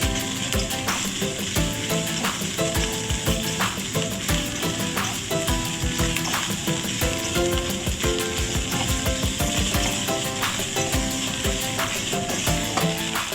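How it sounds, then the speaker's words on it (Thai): Curry paste stir-fried over low heat in a pan for a stir-fried pork and dill dish gives a loud, steady sizzle, with repeated scraping strokes of the spatula running all the way through. "ก็ผัดพริกแกงไปให้เหลืองหอมนะครับ"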